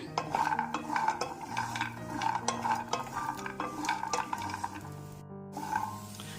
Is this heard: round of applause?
no